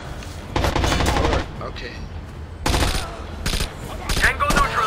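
Rapid bursts of automatic gunfire in the video game Rainbow Six Vegas, several loud clustered volleys separated by short gaps, with brief spoken replies in between.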